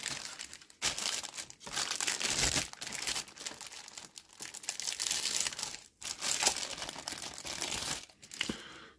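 A large plastic foil bag from a Dragon Jagdpanther Early model kit is handled and crumpled close up, with continuous crinkling in irregular bursts and brief pauses.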